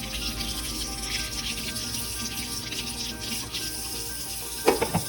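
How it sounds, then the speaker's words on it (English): Water runs steadily to rinse out a milking bucket, a continuous close splashing wash with a few louder knocks and splashes near the end, no talking. "take the stopper off and rinse that out really well"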